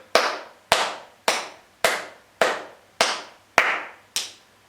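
Eight sharp hand claps spaced about every half second in an even rhythm during a yoga exercise, each loud and close with a short decay, alone with no voices.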